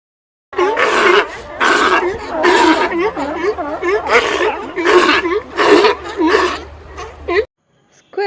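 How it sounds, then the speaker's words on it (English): Sea lions give a run of loud, close, barking grunts and throaty roars in uneven bursts, with short gaps between calls and a brief pause before a final sound at the end. "Sea lions."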